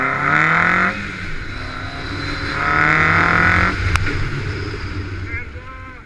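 A T2 Trooper off-road vehicle driven hard over snowy ground, its engine loud and close, surging in two long revving swells with a brief dip between and a sharp knock near the end.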